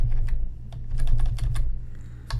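Keys on a computer keyboard are struck in quick irregular bursts of clicks, close and clear over a steady low hum, with no voices.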